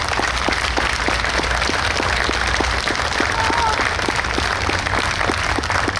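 A large outdoor crowd applauds steadily at a New York State Police special operations response exhibition, dense continuous clapping with a faint voice underneath, loud and sustained throughout.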